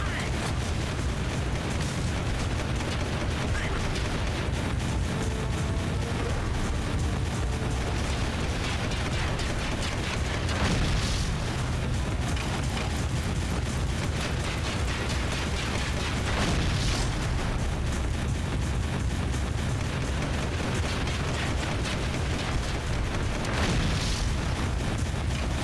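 Heavy gunfire and explosions from a big gun in Jak II boom in dense, continuous bursts, with several sharp louder blasts standing out against a constant roaring barrage.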